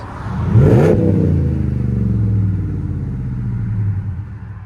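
A Dodge Charger roars past, its engine revving hard as it approaches, then a deep rumbling exhaust fades gradually as the car moves away.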